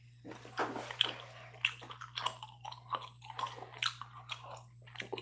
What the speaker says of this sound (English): for those of you that might like to hear an occasional gum chew